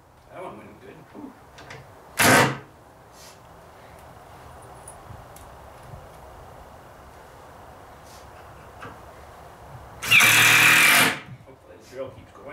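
A cordless drill driving into a wooden door being built whirs in two short bursts, one brief and one longer, loud and close, with quiet workshop background between them.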